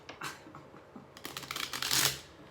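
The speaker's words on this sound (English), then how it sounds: "Let's get one more shuffle and get some clarity on this" Tarot cards are shuffled by hand for a love reading, giving a close series of crisp riffling and flapping bursts that grow denser and louder toward the end, with no talking.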